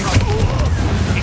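Spell-casting bursts from the Incendio fire spell in the video game Hogwarts Legacy, a dense, loud crackle of booming, gunfire-like blasts mixed with a voice shouting over the din.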